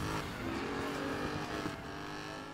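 A sports car in the racing video game Need for Speed Payback roars continuously up close, its engine revving loud and steady with a faint hint of tire noise.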